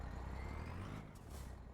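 A truck backing up triple trailers in American Truck Simulator gives a low idling engine rumble with a brief hiss, faint and steady, alone without speech.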